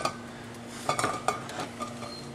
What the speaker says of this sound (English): Now it's time to cover the rice